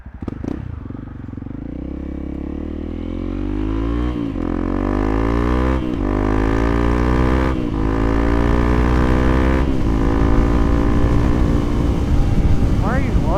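A Honda CRF300L motorcycle engine lugs at low revs while riding, a loud, steady drone that rises slowly in pitch between several short gear-change dips, with wind rush throughout.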